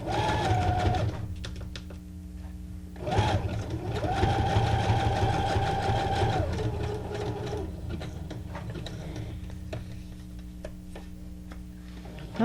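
A sewing machine stitches steadily, with a brief pause near three seconds. Its hum and tight ticking needle rhythm fill most of the stretch, the stitch length having been changed, with no talking.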